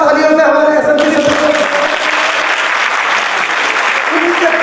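A crowd at a national School Management Committee consultation in Lucknow, India breaks into loud, sustained applause that fills the room, with a voice heard briefly over the clapping at the start.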